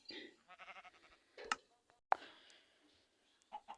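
Minecraft sheep give faint, wavering bleats in the video game, mixed with soft clicks while someone speaks French.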